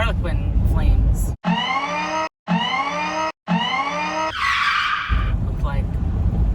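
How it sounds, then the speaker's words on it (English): An old car fitted with hydraulics and Harlequin flames passes close, with a loud, rising engine roar in repeated bursts while people talk over it. "Look at that old car."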